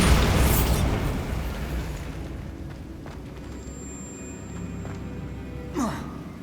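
A Bombarda explosion spell in the Hogwarts Legacy game bursts at the start with a loud, deep boom, then decays into a rumbling tail and faint debris, with a small whooshing swell near the end.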